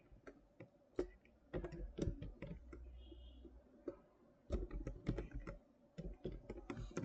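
Someone types a name on a computer keyboard while building a CV in MS Word. Quick bursts of close, crisp key clicks come in irregular clusters, with short pauses between groups and no speech.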